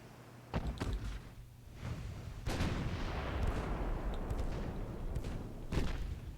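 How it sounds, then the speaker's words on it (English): Pre-dreadnought battleships in a naval video game trade fire from their 6-inch and 3-inch guns, heard as a series of sharp, booming shots at irregular intervals over a low, rolling background. "it's pre-dreadnoughts firing at each other"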